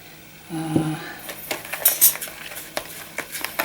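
Light clinks and scrapes of a spoon against a bowl repeat irregularly as sugar is spooned in, close by, after a brief tone at the start.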